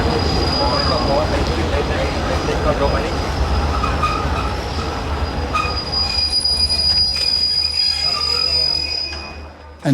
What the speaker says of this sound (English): And then we came to a screeching halt at the new station of Hua Hin.